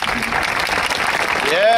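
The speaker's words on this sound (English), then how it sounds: "Another big round of applause for the talented students" At a high school graduation ceremony, the audience claps in a dense, sustained burst for the talented students, with a voice speaking over the applause and a brief tonal sound rising near the end.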